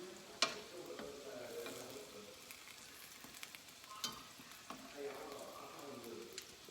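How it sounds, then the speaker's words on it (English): Soft, steady crackling and sizzling of biscuit dough frying in oil for donuts, fairly quiet, with occasional sharp pops and faint voices in the background. "They're frying a little too quick."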